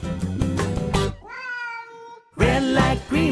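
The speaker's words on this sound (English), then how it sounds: "there's a cat." One drawn-out cat meow rings out clearly between loud, busy passages of a children's song.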